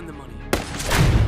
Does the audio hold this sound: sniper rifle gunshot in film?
yes